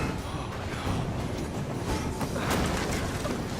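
A train rolls along steadily in the video game Assassin's Creed Syndicate, a continuous close rumble with rail clatter that stays loud throughout.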